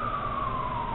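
A siren, from an ambulance or police car, wails as one sustained tone that slides slowly downward, loud and steady across the short stretch with no voices.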